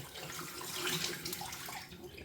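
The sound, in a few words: tap water running into sink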